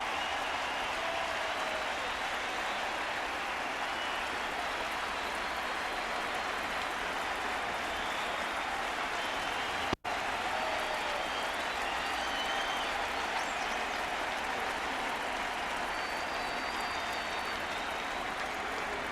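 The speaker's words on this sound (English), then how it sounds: "Another standing ovation." A baseball crowd at a 1998 St. Louis Cardinals vs Chicago Cubs game gives Sammy Sosa a standing ovation. The applause and crowd roar are loud and sustained throughout, with a single sharp break midway.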